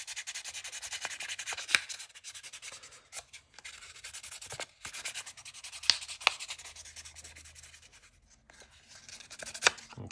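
Guitar-playing fingernails are filed with 600 grit sandpaper in quiet, close, repeated scratchy strokes that come in short irregular bursts with a few sharper scrapes.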